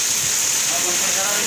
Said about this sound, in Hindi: हंसी में फुल तेज बारिश आ चुकी है